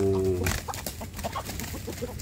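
Free-range village chickens cluck in a backyard flock, several birds calling in short irregular bursts at close range after a brief tonal sound at the start, with no talking.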